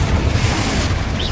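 Confringo blasting spell in Hogwarts Legacy, a loud, sustained low boom and rumble of an explosion filling the short moment alone.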